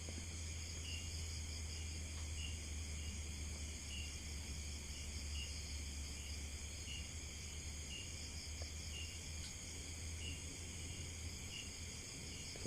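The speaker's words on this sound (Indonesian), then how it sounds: "suara jangkrik" Crickets chirping at night in a quiet field, a steady dense insect trill with high pulsing layers over a low hum, continuous and unbroken throughout.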